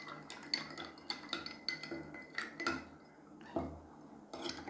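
Sticky, sugary soda water with Mentos being stirred in a container, a series of irregular clinks and taps of the stirring utensil against the sides, fairly close and quiet.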